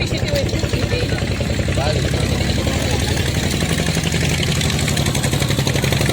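A vehicle engine runs at a steady idle-like drone close by throughout, with people talking over it.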